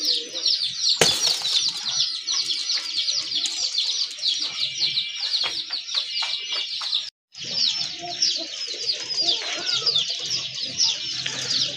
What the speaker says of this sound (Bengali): মাশাল্লাহ খুবই সুন্দর এক জোড়া কবুতর